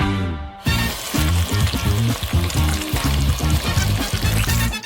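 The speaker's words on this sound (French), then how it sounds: "j'ajoute le chocolat et je mélange bien avec un batteur" An electric hand beater whirring through fromage blanc and chocolate in a bowl, starting after a brief tonal sound and then running loud and steady with rhythmic churning close by.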